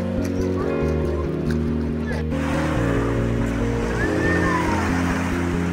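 A wave machine in a resort swimming pool churns up surging water, a continuous wash of splashing noise under loud, steady music.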